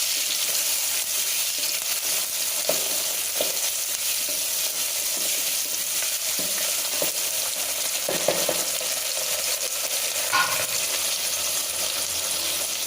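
A large chopped tomato and two green chillies sautéing in a pan for a tamarind curry, giving a steady close sizzle with occasional stirring knocks and scrapes.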